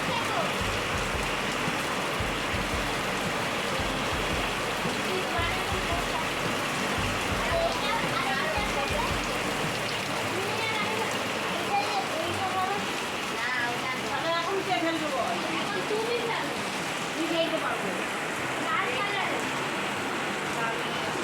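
Continuous rain falling and splashing on surfaces, a steady even wash of sound from start to finish with no talking.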